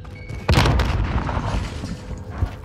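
A frag grenade goes off in the video game Call of Duty Warzone as one loud boom with a sharp onset, then a long rumbling decay and a smaller thump near the end.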